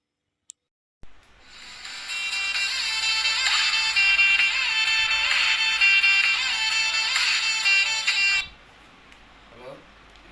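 A mobile phone ringtone plays, a bright, repeating electronic melody that starts after a short click, rings steadily for about seven seconds and then stops abruptly, followed by faint room sounds.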